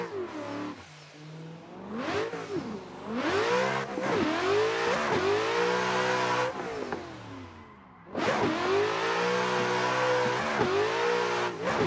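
A Nissan S15 pro drift car on track, its engine repeatedly revving hard and dropping in loud, close surges, with brief lulls between bursts and no talking.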